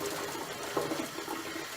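Tap water runs steadily into a sink as makeup brushes are washed by hand with soap and a rubber glove, a close, constant hiss with slight splashy variation.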